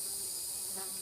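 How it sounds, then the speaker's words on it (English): A cicada or locust buzzes in Georgia, a loud, steady, high-pitched drone that holds evenly throughout with no voices over it. "she doesn't know if there's cicada or some kind of locust"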